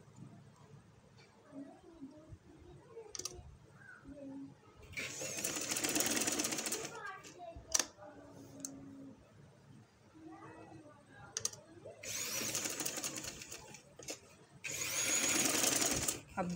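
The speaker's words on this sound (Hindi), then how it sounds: "अब दूसरी साइड भी मैं इसी तरह से पूरी ऊपर तक सिलाई लगा लूँगी" A sewing machine stitches around the neckline of a blouse in three bursts of fast whirring, close and moderately loud, with quiet handling noise and soft speech in the pauses between runs.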